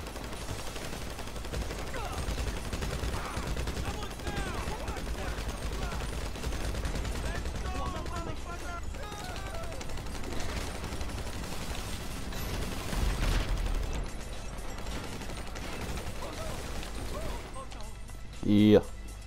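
Rapid gunfire from a shootout during a casino heist in a GTA video game, continuous overlapping shots and mechanical clatter under game music and talking voices, ending with a louder burst.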